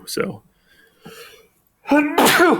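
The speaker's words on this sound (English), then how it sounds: "My sneezes always come in two" A sharp, forceful sneeze bursts out near the end, after a few soft sounds and a brief spoken word.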